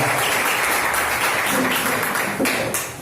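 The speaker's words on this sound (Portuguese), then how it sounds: "Você pode aplaudir ao Senhor?" A church congregation breaking into dense, sustained applause that fills the room, loud and continuous before thinning out toward the end.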